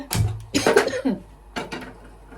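A few harsh coughs from chili spice close by in a kitchen, in two bursts separated by a short pause, with faint clinks of kitchenware.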